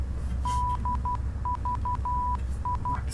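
Radio-navigation tones in Flight Simulator X: a series of clear, evenly pitched electronic beeps in short and long dashes, like Morse identifier coding, repeating over a low steady cockpit hum.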